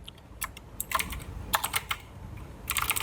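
Quick clusters of keystrokes on a computer keyboard come in short bursts with brief pauses, close and crisp, with no voices.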